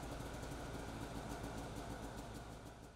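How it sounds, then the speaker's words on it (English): A Polaris SKS snowmobile engine runs at a steady idle, a faint continuous low rumble with a slight pulsing throb, heard alone without voices. "Finally, start the engine to ensure proper operation."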